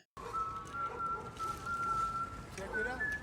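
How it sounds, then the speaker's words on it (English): A man whistles a steady, sustained tune in a scene from the TV show The Wire, the clear tone holding for several seconds before sliding through a few shifting notes, with faint voices beneath. "Why is he whistling like that?"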